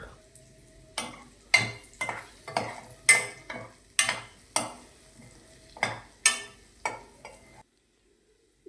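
A spatula mixes green beans with coriander-cumin powder and salt in a pan, scraping in a steady rhythm of about a dozen sharp, close strokes, then falls silent.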